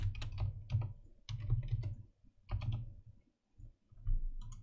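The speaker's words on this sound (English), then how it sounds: "I'm going to type in a username and click join chat" Keys on a computer keyboard are typed in quick bursts with brief pauses, entering a username at close range with no talking.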